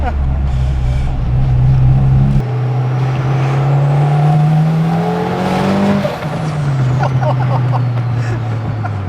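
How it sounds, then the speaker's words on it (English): Turbocharged 330 hp Honda DC2 Type R driving, with a loud steady engine drone that shifts pitch between gears and faint turbo whistles and flutter over it, heard from inside the car. "Man, those turbo noises, they just don't go away."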